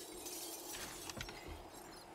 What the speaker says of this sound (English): I smashed a light or a window